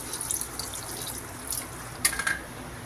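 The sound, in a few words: half glass of water poured into biryani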